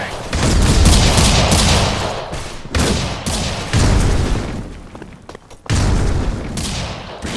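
A grenade blast and gunfire in a Critical Ops league match: loud, booming bursts mixed with rattling shots arrive in several separate waves, with brief quieter gaps between them.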